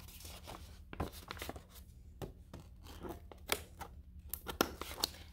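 Scissors snip through paper and punch a hole in the center of a creative color wheel craft, giving quick, close, crisp cuts scattered across a quiet room.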